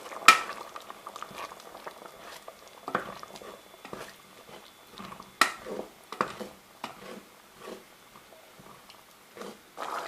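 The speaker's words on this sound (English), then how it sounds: "I'm going to give this a good mix now." A spoon stirs chilli con carne with chopped tomatoes in a pot, producing wet squelching scrapes and soft knocks in an irregular rhythm, close and fairly quiet.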